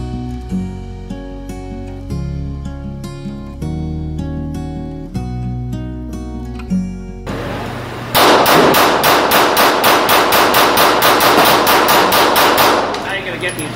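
Rapid rifle fire at an outdoor range, three quick sharp shots within about two seconds in a loud burst, after a stretch of ringing metallic clangs.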